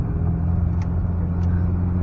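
A 1982 Volkswagen Golf Mark 1 GTI on the move, heard from inside as a steady low engine drone and road rumble, continuous and fairly loud, with no talking.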